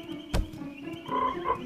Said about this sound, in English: How can two toads make all that noise?